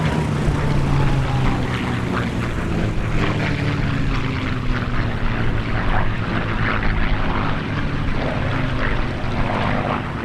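The TF-51D Mustang two-seat trainer fighter "Contrary Mary" drones steadily at an airshow, its piston engine and propeller giving a loud, sustained rumble with a slowly shifting pitch.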